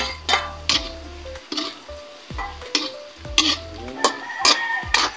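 Onions hitting a hot pan give a steady sizzle, broken by repeated sharp scrapes and clinks of stirring at close range, with no talk.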